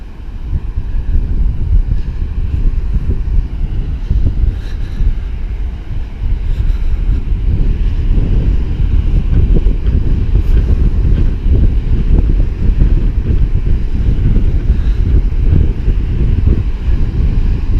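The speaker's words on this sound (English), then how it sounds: "Yeah, a little bit windier on this side of the dune." Wind gusting across the exposed side of a sand dune near Mt Gambier, a loud, continuous low roar buffeting the microphone with no talk.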